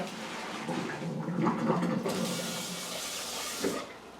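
Hot pasta water is poured out of a pot in a home kitchen, a steady gushing splash with hissing steam that runs for several seconds, then tapers off.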